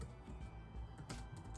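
Computer keyboard typing while entering a title on a Google Sites page, soft close clicks running steadily through the moment with a denser burst near the end, no voices.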